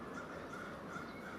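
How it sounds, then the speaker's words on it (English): Crows cawing in a city, a steady, moderately loud wash of calls over continuous urban background noise, with no clear individual breaks between them. "Crows can talk to each other too."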